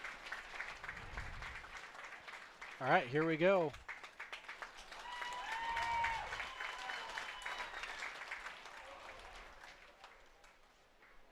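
A county fair audience claps briefly for the participating kids, moderately loud, while someone speaks over the room and a short whooping vocal burst cuts through.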